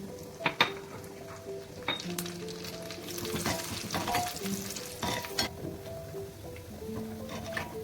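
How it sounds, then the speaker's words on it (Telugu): Cashews frying in hot ghee after almonds, for a festival payasam: a constant crackling sizzle punctuated by sharp clinks of a spoon against the pan, close and moderately loud. "ఇదే నెయ్యిలో జీడిపప్పు వేద్దాం"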